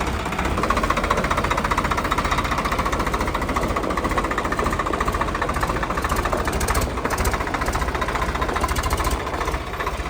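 A Swaraj 855 tractor with a 15-speed gearbox on 16-inch tyres runs with a steady, dense diesel clatter that stays close and even from start to finish, with no talk.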